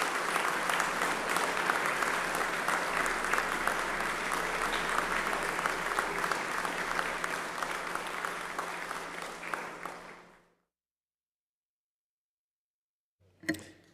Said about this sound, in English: Let's please applaud Jim Marshall and those members of the House who are here this morning.